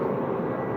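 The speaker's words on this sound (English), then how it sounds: "But that's the plane." A passing airplane gives off a steady, broad engine roar that stays even and fairly loud throughout, with no voices over it.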